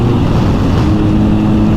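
A BMW R1250GS motorcycle pulls hard in fifth gear with a loud, steady engine drone mixed with rushing wind noise, close and continuous, with no speech.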